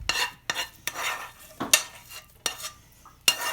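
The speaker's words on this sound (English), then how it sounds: "we'll add our onions now to the potatoes" Onions being stirred into potatoes for a pierogi filling, a spoon scraping and knocking against the pot in about six separate strokes, close and clear with quiet gaps between them.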